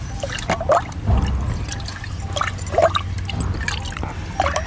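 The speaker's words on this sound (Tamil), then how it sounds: "என் தம்பிக்கும் ஊற்றி கொடுக்குறேன்" A drink trickles and drips into a cup in close, uneven bursts of pouring and splashing over a low background rumble.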